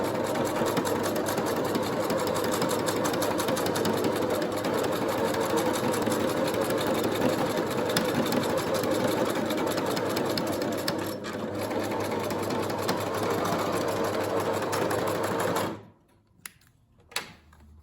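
A sewing machine stitches pintucks along folded fabric in one long, steady, close-up run of fast mechanical chatter, then stops abruptly, leaving a few faint clicks.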